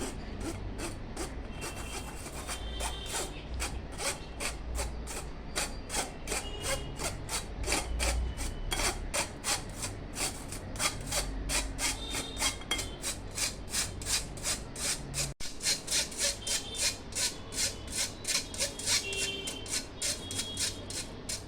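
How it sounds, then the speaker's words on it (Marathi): A dry mix of cinnamon powder, baking powder and baking soda is shaken through a sieve for a plum cake. Quick, regular rasping strokes sound close up in an even rhythm. "हे मिश्रण आहे ना व्यवस्थित आपण असं चाळून घेऊया"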